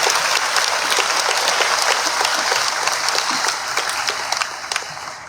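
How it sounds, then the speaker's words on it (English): Sustained applause from a large audience at a high school graduation ceremony, a dense steady clatter of many hands clapping that fades slightly toward the end, with no talk over it. "Let's have a round of applause for them."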